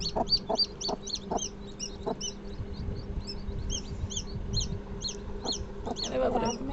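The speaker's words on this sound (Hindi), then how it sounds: "ये है जस्ट बॉर्न चिक बेबी, और ये जैसे ही पैदा हुआ उसके बाद बस ची ची ची करने लगा" A newborn chick beside its mother hen gives a rapid series of high, thin cheeps that repeat all the way through, close and clear. Low clucks from the hen and some soft handling noise sit beneath the cheeping.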